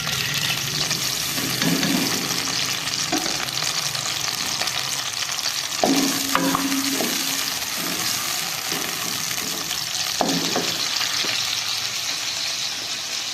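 Onions sizzle in hot ghee in a Pakistani home kitchen, a steady frying hiss punctuated by occasional clinks and scrapes of stirring, close up with no one speaking.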